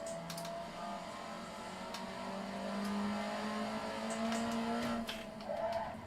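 Engine of a front-wheel-drive Honda car in a video game, holding a steady drone that rises and shifts pitch as it drives, with light tire noise and no talking.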